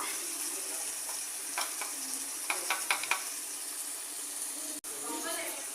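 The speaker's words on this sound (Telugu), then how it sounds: "మసాలా పౌడరు వేసి కలుపుకున్నాము" A pan of onion chili paste and masala powder sizzles steadily while a spoon stirs through it with a few scraping strokes, close up, under a background hiss with a voice speaking briefly.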